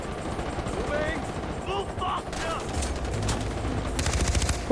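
Sniper rifle and other gunfire in a Far Cry 4 firefight, a run of sharp shots and bursts that crackle through the middle and end of the stretch over steady background noise.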